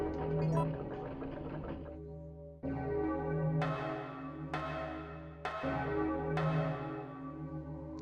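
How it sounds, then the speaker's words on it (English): A large bell in Resident Evil 3 tolls three times at slow, even intervals, each strike ringing out and decaying over a steady musical drone. "that bell ringing means we are done"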